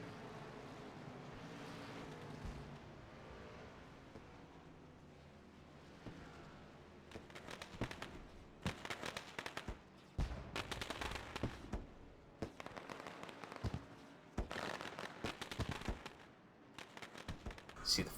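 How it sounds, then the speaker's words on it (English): Fireworks crack and pop in irregular bursts after a stock car race finish in iRacing, becoming dense in the second half, over a low rumbling background. "See the fireworks going off."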